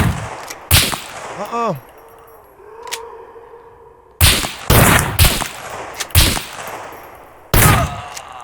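Shotgun gunfire in a video game, several sharp, loud blasts in irregular bursts separated by quieter gaps, with a short spoken exclamation early on.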